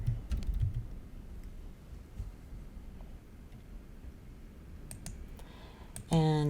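Several quick, crisp mouse clicks sound at a desk while working in Revit software, starting with a cluster and followed by scattered single clicks, with a soft tone near the end.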